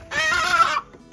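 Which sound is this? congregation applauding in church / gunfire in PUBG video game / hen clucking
hen clucking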